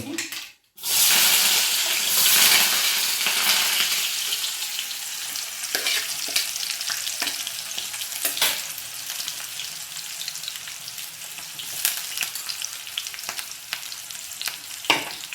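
Onion and tomato frying for a chicken curry with curry leaves, a steady loud sizzle after a brief silence, with scattered clicks and scrapes of stirring throughout.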